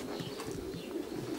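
Racing pigeons coo in a low, continuous murmur at their loft after a race, several birds overlapping close by with a soft rolling rhythm.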